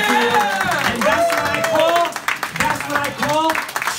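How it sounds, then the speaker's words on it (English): At a live comedy magic show with a Russian roulette stunt, the crowd breaks into loud applause mixed with cheering and voices, the clapping dipping briefly midway before swelling again. "Let's give Allie a big round of applause"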